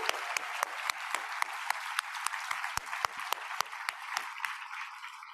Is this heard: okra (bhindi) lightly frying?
no